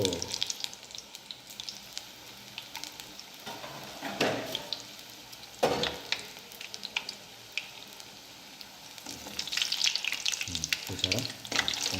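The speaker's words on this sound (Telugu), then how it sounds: "ఇది మిర్చి బజ్జీ తయారు చేసే విధానం ఇది సో నేను ఆనియన్ బజ్జీ కూడా వేసుకుంటా" Mirchi and onion bajji frying in hot oil, a continuous sizzling hiss with bursts and crackles as batter-coated pieces drop in, close and fairly loud with occasional clinks and no talking.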